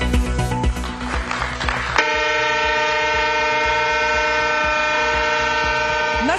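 The Rajdhani train in Mizoram, flagged off on the state's first railway line, rumbles noisily before its horn sounds a long, loud, steady blast that holds to the end.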